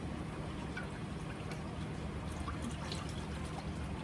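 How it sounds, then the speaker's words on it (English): Water pours slowly into gravy mix in a pan, giving a soft, steady, low trickling wash that holds for several seconds, faint and continuous, with no talking. "We're gonna slowly stir or pour our water in here."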